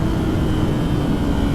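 A 2021 Kawasaki ZX10R motorcycle engine runs at half throttle in a steady, loud, dense roar with a constant drone and no break, heard close and without talking.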